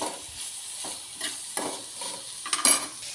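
Kashmiri chili powder stirred into frying beans, a spoon scraping the pan in repeated strokes over a quiet sizzle, close and fairly soft.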